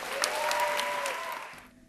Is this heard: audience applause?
yes